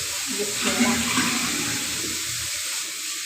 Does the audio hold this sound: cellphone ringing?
no